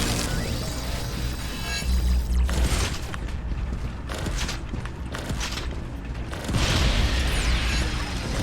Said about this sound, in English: Those explosions got some range on it.